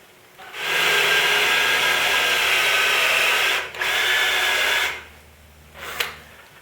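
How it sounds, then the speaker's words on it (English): A power drill with a Forstner bit bores a 3/4 inch recess into wood up close, whining steadily for about three seconds, pausing briefly, then running again for a short burst. "Now I need to drill a 3/4 inch recess for the nut to fit in"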